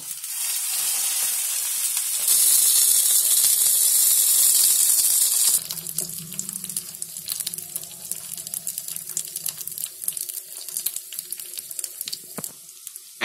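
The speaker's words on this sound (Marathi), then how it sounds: "ह्याच्यामध्ये आहे ना मी तडका केलाय ते ओतते" Hot tadka tempering poured into Gujarati handvo batter gives a loud, bright sizzle that surges for a few seconds, then settles into a softer crackling hiss with scattered pops.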